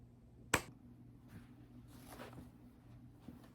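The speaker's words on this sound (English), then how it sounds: "So I'm gonna clap for the final thing." One sharp hand clap rings out near the start in a quiet indoor room, followed by a faint hum and light shuffling.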